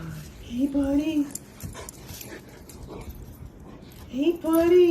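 An excited dog whimpers and whines in rising, high-pitched bursts, one near the start and another at the end, with a person's voice and quiet background noise in between.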